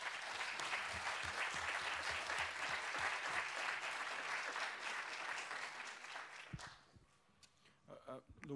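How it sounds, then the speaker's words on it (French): An audience at a conference on reuse breaks into steady, dense clapping that stays full and even for several seconds, then fades quickly into scattered last claps and room noise. "qui mérite un petit tonnerre d'applaudissements"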